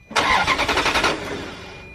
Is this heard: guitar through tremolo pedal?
no